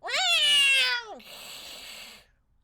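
A cat gives one loud, drawn-out meow that falls in pitch, followed by a breathy hiss trailing off into silence, close up with no voices.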